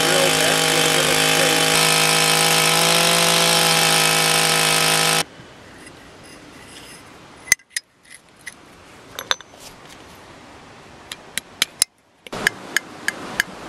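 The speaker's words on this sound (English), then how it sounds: "hammering the trail marker into solid rock" A power drill grinds into solid rock for about five seconds, then stops; sharp metallic hammer strikes follow, irregular and close, as a trail marker is driven into the rock.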